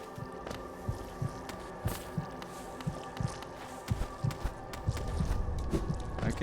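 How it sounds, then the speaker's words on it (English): A low, muffled heartbeat thumps in a steady rhythm through the ambient soundscape of the video game Hollow Knight, soft and throbbing beneath a faint hum, with a slight swell near the end. "I can hear a heartbeat"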